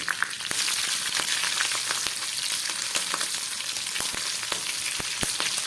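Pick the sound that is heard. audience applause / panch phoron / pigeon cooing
panch phoron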